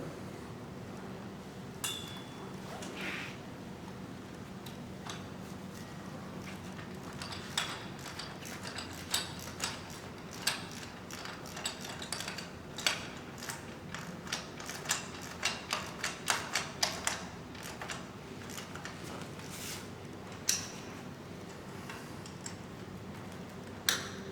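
A socket wrench tightening steel bolts on a boat and shore blind frame, with rapid ratcheting clicks in uneven bursts close by and a quieter background hum.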